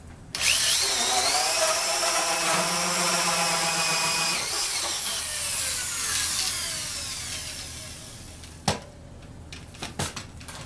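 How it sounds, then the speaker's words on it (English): Power drill boring through wood in a workshop, a steady loud whirring grind for several seconds that tapers off, followed by a few scattered knocks and clatters, no talk. "Already drilled these holes through from the other side."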